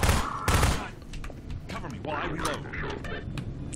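Gun emplacement firing in Synergy, two heavy booming shots at the start followed by scattered gunfire and clanking, with people talking over it.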